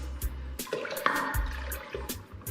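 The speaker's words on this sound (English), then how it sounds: "I still need to add more water so it can come up to this line." Water poured into a pot for making coconut rice, a splashing, running flow with short gurgling bursts, close and fairly steady over a couple of seconds.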